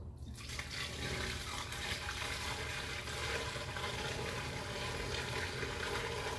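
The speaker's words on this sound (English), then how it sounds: "We're going to put some more water down the line, let it all drain through." Water poured down a residential sewer line rushes and drains steadily, a dense continuous gush that stays loud and even throughout with no talking.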